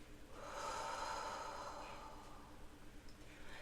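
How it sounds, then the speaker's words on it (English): Slow, forceful breath exhaled out during a guided relaxation exercise, a soft, airy rush that swells and fades over a couple of seconds, followed by lighter breathing. "Slow, forceful exhale out."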